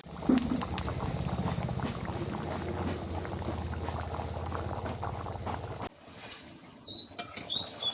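Desi chicken curry in a medium gravy boils steadily in the pot, a dense close bubbling simmer that drops away near the end and leaves faint clinks and rustles.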